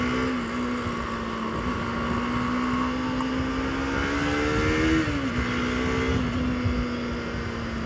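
A Bajaj Pulsar AS200 motorcycle engine drones steadily and rises under throttle while riding, with a brief dip and recovery in pitch, heard loud and close.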